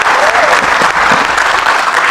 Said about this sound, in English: Ladies and gentlemen, give a huge, huge round of applause for Mr.